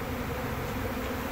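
Honey bees buzz around a driftwood swarm lure set in a box with old brood comb, a steady dense hum of many insects filling the short stretch with no pauses.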